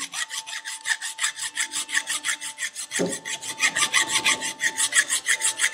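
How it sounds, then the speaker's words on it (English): A metal file rasps over the gasket surface of a Briggs and Stratton engine from a Webb cylinder mower, steady rhythmic back-and-forth strokes, close and fairly loud, repeating evenly for several seconds without speech. "So I'm just going to give that a little bit of a rub with a file."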